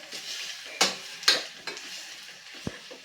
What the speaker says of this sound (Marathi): गूळ घालून घेतल्यानंतर परत हलवून घ्यायचं आहे मिक्स करायचं आहे